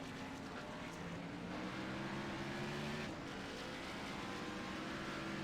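Stock cars lapping a Richmond oval in an iRacing race, a steady faint engine drone with sustained tonal harmonics from the pack, no voices.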